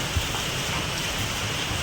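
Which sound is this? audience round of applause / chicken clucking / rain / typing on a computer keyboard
rain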